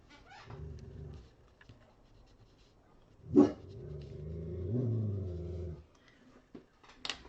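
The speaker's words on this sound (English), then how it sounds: "My dog is home with me." Gertie, a dog at home, gives a single sharp bark in the middle. Soft whines and low grumbling come around it, with quiet room noise before and after.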